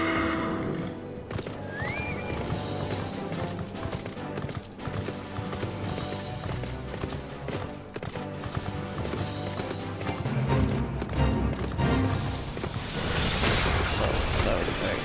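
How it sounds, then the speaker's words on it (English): A horse's hooves clip-clop rapidly in a steady galloping rhythm amid dense music and effects in Final Fantasy XIV: Stormblood, with the horse whinnying briefly over the busy mix. "Get on my horse."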